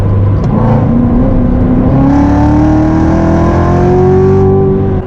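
A Chevrolet C7 Corvette engine revs hard as the throttle is floored, a loud, close, continuous roar that climbs steadily in pitch over several seconds before easing slightly near the end.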